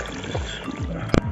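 Water pours into a pressure-cooker pot of beef and potato curry, a short burst of wet sloshing and gurgling close by, ending with a sharp knock against the pot.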